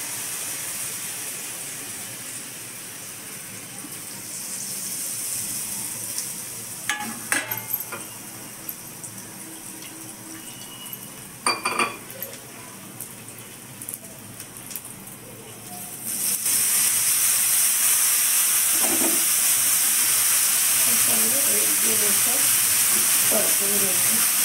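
Dubuk vada gravy flour sautéing in a little oil in a pan over low gas, a steady broadband sizzle that swells louder and denser partway through, with a few faint clinks of a stirring spoon.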